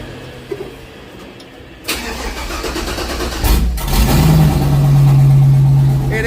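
An LS V8 engine cranks, fires up and revs inside an enclosed shipping container, booming and loud with heavy reverberation, the revs climbing and holding near the end.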